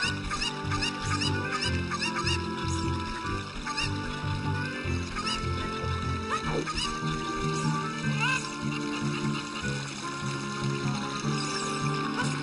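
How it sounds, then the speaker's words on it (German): A chicken in The Legend of Zelda: Ocarina of Time makes repeated clucking calls over busy game music and ambient effects, and someone talks over parts of it. "Ein blödes Huhn."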